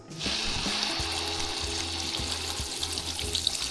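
Blended onion paste dropped into hot oil with spices while making a Bengali prawn bhuna, bursting into a loud, steady hiss and sizzle after a brief quiet start, with faint low stirring knocks underneath.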